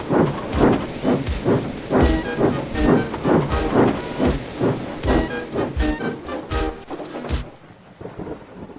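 A cartoon steam engine puffs away hauling a goods train, its chuffs loud and rhythmic in steady bursts before fading out near the end.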